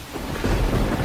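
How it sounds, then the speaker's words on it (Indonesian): Low rumbling thunder rolls beneath a steady wash of rain, both fairly loud and continuous with no voices. "dikarenakan cuaca buruk, hujan dan petir"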